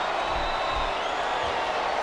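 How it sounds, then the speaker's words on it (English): Crowd cheering from the WWE SmackDown video game wrestling match, a dense continuous roar of arena noise with no clear breaks, loud and steady throughout. "I love hearing the crowd come alive"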